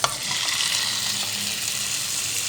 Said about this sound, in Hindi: अब ये प्रॉन जो है हम इसमें फ्राई करेंगे।